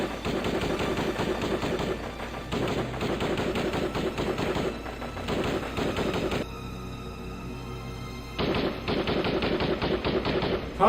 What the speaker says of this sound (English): Tunnel got sporadic gunfire below.